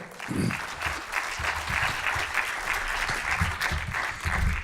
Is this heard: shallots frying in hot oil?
no